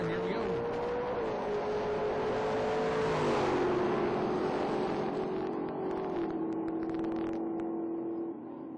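Drag race cars, a 1967 Camaro and a 1963 Nova, roar with sustained engine whine that climbs and shifts pitch in steps as they accelerate, loud and continuous before fading slightly at the end, with an announcer's voice in the background.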